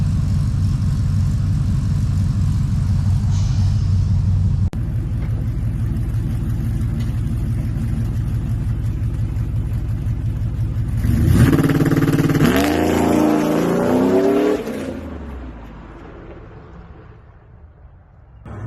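A 2006 Chevrolet Trailblazer SS AWD with aftermarket headers: a deep, rumbling engine idles loudly, then revs up sharply with a rising growl before settling back and fading.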